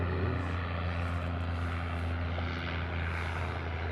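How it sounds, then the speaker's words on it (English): Air New Zealand Boeing 787 Dreamliner airliner arriving from Auckland on approach to Honolulu, a steady distant jet engine drone with a low constant rumble throughout. "This is the Air New Zealand flight coming in from Auckland. This is a Dreamliner."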